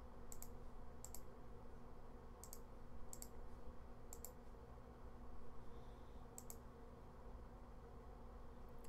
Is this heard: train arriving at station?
no